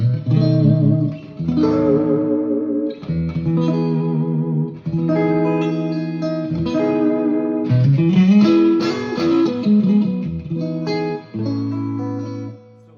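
Electric guitar through a Hughes and Kettner Tubemeister 36W tube amp with its built-in distortion and reverb, sustained chords and notes ringing out in a continuous phrase, loud and close.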